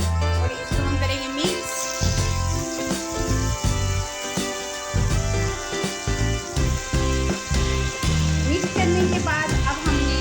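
Chopped ginger and garlic frying and browning in a pan for mash dal, giving a steady sizzle with light stirring clatter and a few clinks throughout, with no speech over it.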